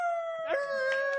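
A voice imitates a wolf howl with a single sustained, wavering, slightly falling tone lasting just over a second, clear and close.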